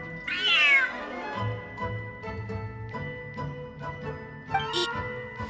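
A cat meows loudly once in the Genshin Impact video game, a single drawn-out cry near the start, followed by quiet tonal background sounds.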